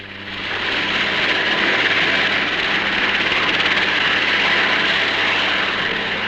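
A steady, loud engine roar of military helicopters overhead in 1965, droning continuously without pause.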